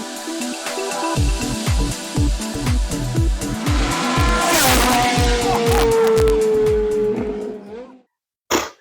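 A Honda NSX sports car revving hard at a Dutch concours d'elegance event, loud rising engine notes with rapid gear-like pulses and a long tonal whine, voices faintly mixed in, before cutting out abruptly.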